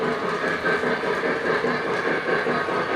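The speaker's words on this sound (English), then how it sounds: "Right now, it's the only train on the main line" An O scale model train runs on the main line of a layout, giving a steady, close, fairly loud mechanical rumble and whir that holds level throughout.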